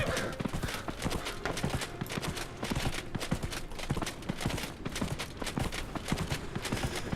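Horse hooves clip-clopping in steady galloping rhythm while riding a slow horse in Dragon Age Inquisition, continuous and close throughout, with a faint voice briefly underneath.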